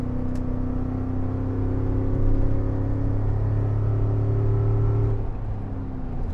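A Ford F-150 pickup truck engine drones steadily while driving on a UK road, a loud, close low hum with a slight rise in pitch before settling near the end.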